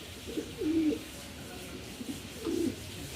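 Kalanka pigeons coo in short, low, throaty phrases, two or three bursts close by over a quiet background.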